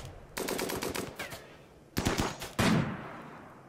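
Video game gunfire in RimWorld: several rapid machine-gun bursts with short pauses between them, each one a fast run of sharp cracks, the last burst loudest and ringing out.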